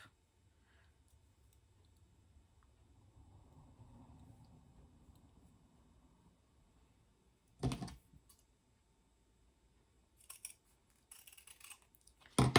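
Scissors snip through white poinsettia wreath material in a few short, close cuts after a quiet stretch, with a final sharp crunch at the end.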